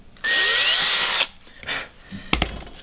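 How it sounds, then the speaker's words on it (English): A power drill bores holes for zip ties on a camera rig build, a loud steady whine lasting about a second with rising pitch, then a brief second burst and a clunk as the bit is pulled out. "So we're going to drill a couple holes and put the zip ties on."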